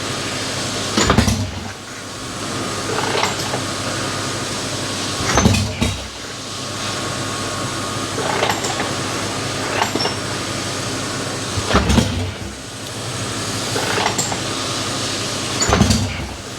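A swap-meet chopper motorcycle engine is cranked repeatedly without catching, giving four loud bursts of whirring starter effort spaced a few seconds apart over a steady idle-like background hum.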